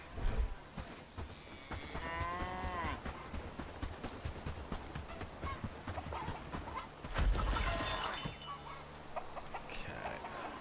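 Cattle moo in the Bellwright video game, a drawn-out low bellow near the start followed by farmyard clatter and hoof-like clopping, with someone talking over much of it.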